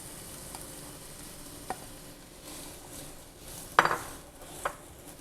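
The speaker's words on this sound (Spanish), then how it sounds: "Vamos a comenzar con nuestras cebollas. Vamos a dorarlas." Onions brown in a pan with a low, steady sizzle under mostly quiet moments, broken by one clear metallic clatter of a utensil against the pan and a couple of fainter taps.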